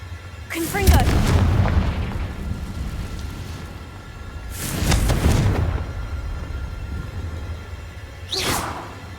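Blasting-spell explosions in a Hogwarts video game, three loud booming bursts, each a sharp whooshing crack swelling into a rumbling roar and decaying over a couple of seconds, spaced several seconds apart, with a brief voice near the start.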